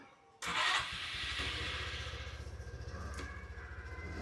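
A new scooter's engine starts abruptly after a brief silence and settles into a steady, close putter of rhythmic idle pulses, heard alone with no voices.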